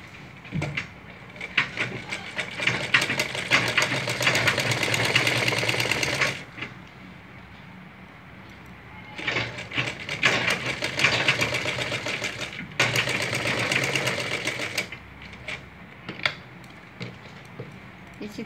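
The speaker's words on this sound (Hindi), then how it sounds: "इस तरह से इस पे हम बड़ी सिलाई सिलाएंगे।" A sewing machine runs stitching a blouse, in three loud, steady bursts of rapid mechanical whirring with short pauses between them, close by and alone.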